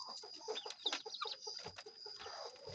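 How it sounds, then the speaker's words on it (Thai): Wild junglefowl with white ear patches calling nearby, a quick run of short clucking and chattering notes over a faint steady background hum. "โอ้ไก่ป่านี่หูขาวเด้อ"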